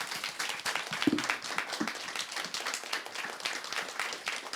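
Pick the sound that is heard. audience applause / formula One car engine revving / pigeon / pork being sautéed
audience applause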